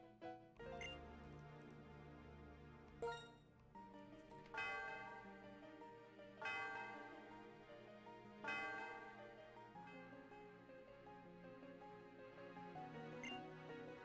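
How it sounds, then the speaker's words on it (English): In the Pokemon Black video game, the bell atop Celestial Tower rings out in several resonant, ringing strikes spaced a few seconds apart, each decaying slowly over soft in-game music. "Celestial Tower's bell is for soothing the spirits of Pokemon."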